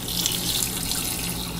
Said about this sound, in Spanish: Agregamos los 2 litros de agua.